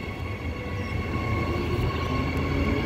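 An EMU passenger train at Currambine station rumbles past with steady rolling wheel noise and a faint electric whine, continuous and close, with no voices.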